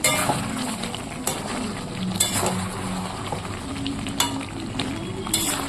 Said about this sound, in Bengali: এদিকে মাংসটা বসিয়ে দিয়েছি আর একটু পরপর নাড়াচাড়া করে দিচ্ছি